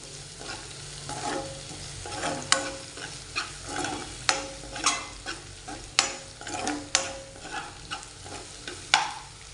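Spices frying for tempering in a hot pan, a steady soft sizzle broken by repeated scraping stirs and light clinks at an irregular rhythm, close and moderately quiet.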